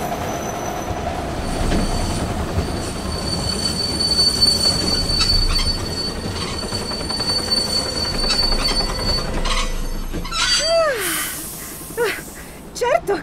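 A cartoon train brakes hard, its wheels squealing loudly in a long, high, rising screech over rumbling rail noise, while animated characters call out over it.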